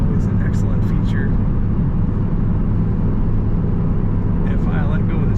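A 2001 Ford Mustang SVT Cobra convertible cruises at 55 mph around 1500 RPM, producing a steady low road and engine drone with wind rush, while someone talks intermittently over it.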